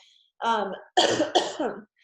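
A person recovering from an illness lets out a short burst of two or three close, harsh coughs, with brief silence before and after.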